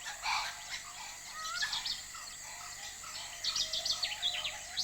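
Kookaburras call from a distance in the Kakadu bush of northern Australia, bursts of chattering, cackling calls in two main spells over a soft, steady ambient background.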